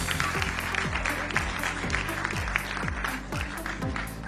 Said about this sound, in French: Félicitations, on peut applaudir encore une fois.